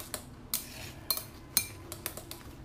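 Chopsticks clinking against the side of a bowl while four eggs are beaten, a series of light, irregular taps and scrapes, fairly close and heard alone.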